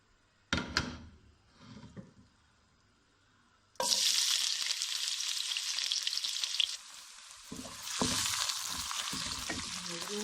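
Onions drop into hot oil for an egg korma and break into a loud, steady frying sizzle that carries on to the end. A few kitchen clatters come first, and the sizzle dips briefly partway through.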